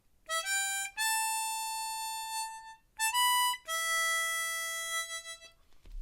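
Harmonica playing the main melody of a song in C, with two bright phrases of rising held notes and a short pause between them, close and clear with no voices.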